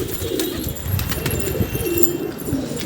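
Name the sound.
pigeons cooing on building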